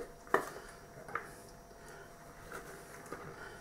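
Meat and macaroni for a Stokenchurch pie are stirred together in a bowl, giving a couple of sharp utensil clinks against the bowl followed by softer scraping and mixing noises.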